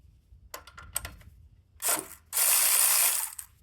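A hand ratchet tightens a 10mm bolt on a 2012 Honda Civic alternator, giving a few quick clicking strokes followed by a longer, louder burst of rapid ratcheting, close up with no talk.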